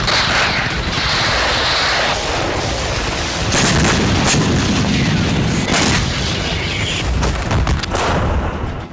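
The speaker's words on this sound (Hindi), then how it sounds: "ताबड़तोड़ बारूद उगलने वाली वॉर मशीन का नाम है K9 वज्र" A K9 Vajra self-propelled howitzer fires in heavy, booming blasts that roll and echo outdoors, one discharge after another, loud and dense throughout.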